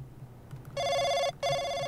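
Telephone ringing in the video game Sniper Killer: two bright electronic rings, the first longer, separated by a short gap, standing out clearly over a quiet background.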